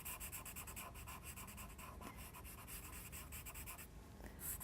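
Pencil shading on paper while adding shadow to sketched snow-capped mountains, a close, steady scratchy rubbing in quick back-and-forth strokes, heard alone without talk.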